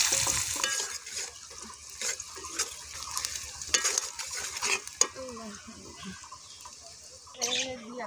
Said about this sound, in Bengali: মাছগুলো আম্মু খুব সুন্দরভাবে নামাই নিতেছে, পেঁয়াজ কুচি ছেড়ে দিতেছে কই কমলার জন্য